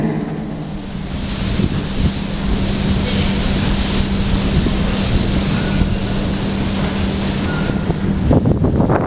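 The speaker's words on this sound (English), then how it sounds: "Not going up there, it's too windy." Strong wind buffets and roars across the microphone for several seconds outdoors near Swiss Cottage in London, a dense continuous rumble with a steady low hum underneath and no clear talk.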